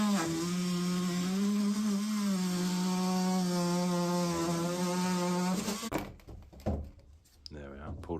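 A power saw cuts through a damaged plumbing stack pipe branch: a loud, steady buzzing whine runs for about five seconds, then stops, followed by knocks and someone talking.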